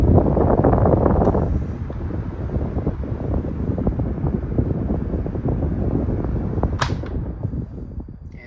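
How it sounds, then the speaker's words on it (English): A Galaxy electric fan blows a focused, strong, constant air stream, producing a loud, steady rushing wind noise across the microphone with a faint brief tick near the end. "It's definitely a focused, more of a focused, constant wind stream."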